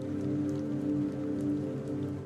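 Rain falling in the video game Dispatch during a scene with a vehicle fire and trapped civilians in cars: a steady wash of rain under a constant low drone, even and moderately loud throughout.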